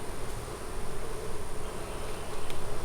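Honeybees at a beekeeper's hive buzz in a dense, steady drone, close and continuous with no voices.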